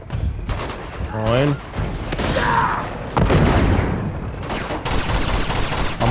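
Pistol and other gunfire in the video game Uncharted 2: Among Thieves, sharp repeated shots and booms layered over game music and effects, with someone talking briefly.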